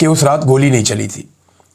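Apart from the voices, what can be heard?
No distinct noise like a dog, phone or traffic.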